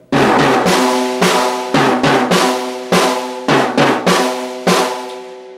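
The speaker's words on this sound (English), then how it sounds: "how to play a fast drum fill using 32nd and 16th notes" A drum fill on a rack tom and snare drum played slowly, with resonant tom hits followed by sharper snare strikes in uneven groups, loud and close with ringing decay between strokes.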